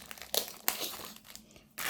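Paper crinkles and crumples in short, close bursts, with brief pauses between handling sounds and a louder rustle at the end.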